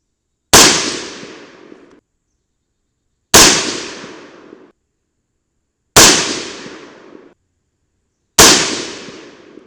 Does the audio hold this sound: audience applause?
no